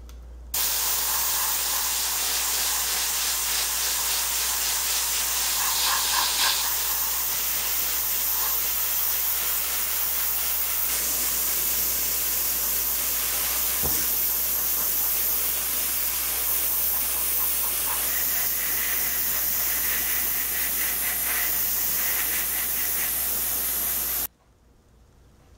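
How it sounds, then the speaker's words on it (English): An airbrush sprays the main paint color onto a 1/48 scale Tamiya Churchill tank model, making a steady, close, continuous hiss for about 24 seconds before cutting off, with no voices. "now I'm going to use my airbrush and start painting the model with the main color."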